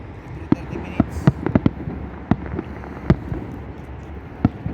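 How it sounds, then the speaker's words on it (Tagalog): Fireworks burst in a series of sharp, loud bangs spaced irregularly, some near and some farther off, over a constant low rumble of outdoor background noise. "11 p.m. na fireworks."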